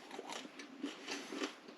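Crusty homemade sourdough bread is bitten into and chewed, giving a series of close, crisp crunches in an irregular rhythm, fairly soft overall.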